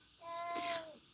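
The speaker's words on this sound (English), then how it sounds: "He's a Siamese cat." A Siamese cat gives a single short meow, a faint, nearby, rising-and-falling cry lasting under a second against a quiet indoor background.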